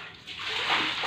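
Water is poured indoors onto a floor during house cleaning, giving a steady close rush and splash that swells briefly.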